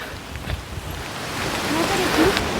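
Heavy rain pours steadily on a mountain village path, a broad hissing wash that grows a little louder toward the end, with no speech heard.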